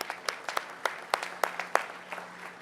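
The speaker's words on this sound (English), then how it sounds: "Give them a round of applause." Sparse, thin clapping from a small audience at a Louisville civic event honoring local artists, a handful of distinct claps at a loose, uneven rhythm, faint and fairly close.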